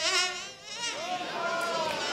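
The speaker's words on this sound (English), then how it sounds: "It's a mosquito." A mosquito whines close by, a thin, high, wavering buzz that drifts steadily in pitch for about two seconds with nothing else audible.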